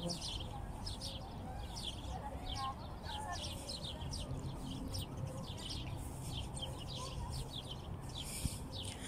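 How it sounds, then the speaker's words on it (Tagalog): Many birds chirp and twitter in a steady, busy chorus beneath Al Adiliya tower in Kuwait. Constant low crowd and traffic noise runs underneath, and people talk nearby. "ang daming ibon"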